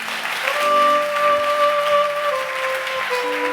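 Church congregation applauding steadily, a dense wash of clapping with sustained organ or keyboard tones ringing underneath throughout.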